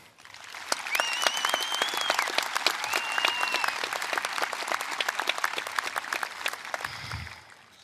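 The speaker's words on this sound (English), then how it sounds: "Let's have a round of applause for the opportunity to be here tonight" A crowd at a high school graduation ceremony in 2021 applauds steadily, with sharp individual claps standing out and a few whoops rising above, before the clapping fades out.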